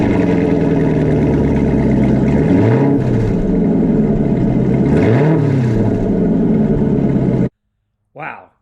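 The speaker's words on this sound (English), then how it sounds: "Now I think it's time for a little cold start action." A Corvette Z06 V8 cold start with CORSA Performance exhaust, loud up close, a deep rumbling idle with two sweeping revs that rise and fall, then a sudden cutoff and a brief voice afterward.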